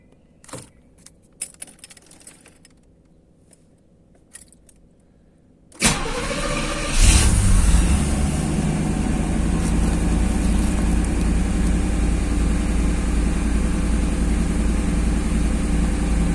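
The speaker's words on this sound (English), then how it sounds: "Let's start up the car and see if the RPMs" A Pontiac Firebird Trans Am is cranked and catches with a loud burst, after a few quiet clicks and key jingles, then settles into a steady, full engine idle close to the microphone.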